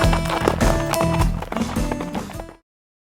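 A horse gallops with rapid, rhythmic hoofbeats close up and loud, the clip-clop pattern running steadily before cutting off abruptly.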